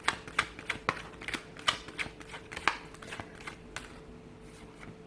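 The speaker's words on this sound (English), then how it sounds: "I'm going to give the cards a shuffle here" Tarot cards being shuffled by hand: faint, quiet papery riffles and soft taps in irregular bursts, close but low in level.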